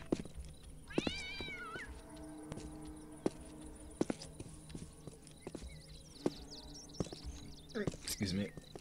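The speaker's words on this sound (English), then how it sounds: "Goddamn cat." A cat in the video game Postal 2 meows a few times amid game ambience, with clopping footsteps and scattered thuds, fairly faint and mixed with other background sounds.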